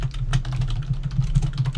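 Rapid typing on a computer keyboard during live cyclone coverage, a dense run of close, crisp key clicks with uneven rhythm over a low hum, with no one speaking.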